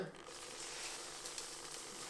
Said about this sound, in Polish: Wrzucamy sobie steka na patelnię.